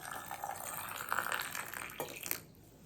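Cold water runs from a tap into a container being filled almost to the rim, a soft close splashing gurgle that stops abruptly near the end.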